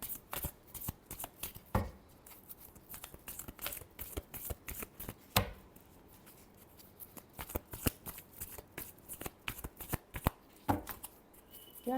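Playing cards shuffled by hand for a tarot-style reading, a long run of quick, dense riffling clicks and flutters with a few sharper snaps, close and steady with no talking.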